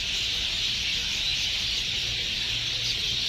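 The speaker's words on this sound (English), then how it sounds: "You can hear the birds chirping." A steady high chorus of small birds twitters near Kolkata airport, continuous and moderately loud over a low rumble of outdoor background noise.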